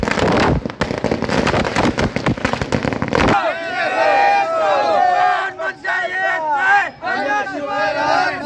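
Dense crackling bursts of firecrackers go off close by at a Congress party victory celebration in Dakshin Solapur, then give way to a cheering, chanting crowd with overlapping voices and shouts.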